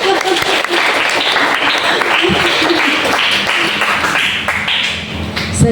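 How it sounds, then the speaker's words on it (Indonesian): A graduation audience claps steadily and loudly in a hall, a continuous patter with some talk and music mixed in beneath. "Nanggung tepuk tangannya, ayolah."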